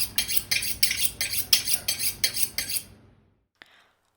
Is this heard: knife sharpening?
yes